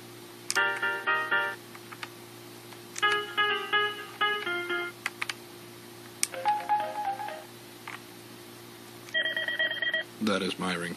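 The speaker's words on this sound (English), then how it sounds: "That is my ringtone." A Cisco IP phone plays a ringtone of short repeated electronic melodic tone bursts in several phrases, clear and moderately loud, followed by a lower tone at the end.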